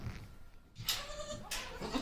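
A Barbari goat gives two short, close bleats in quick succession, each sharp and nasal, with quiet farmyard background between them.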